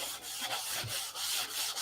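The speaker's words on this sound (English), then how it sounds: "This is the last sanding that these will get" Sandpaper rubbing over a model P-47 aircraft wing before tissue covering, a steady close scratchy rasp with rhythmic strokes roughly every third of a second.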